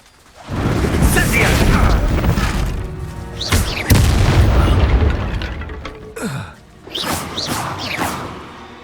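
A Descendo spell lands in Hogwarts Legacy with loud, sustained booming impacts and crashing bursts, followed by whooshing swells and a few sharper hits.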